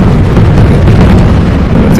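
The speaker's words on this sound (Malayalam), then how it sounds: "പട്ടാപ്പകലുള്ള വെടിക്കെട്ട് എന്തിനു തന്നെ" Daytime fireworks explode at Thrissur Pooram, a festival in Kerala: a loud, continuous wall of booming blasts that blend into one dense roar without pause.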